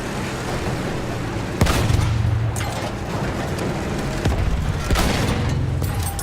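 Tank cannon shells and gunfire in the Battlefield 1 video game: two sharp, heavy blasts ring out a few seconds apart over a steady rumbling battle din at moderate volume.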